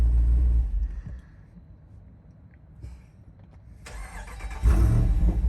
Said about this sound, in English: it will actually start back up with the performance exhaust on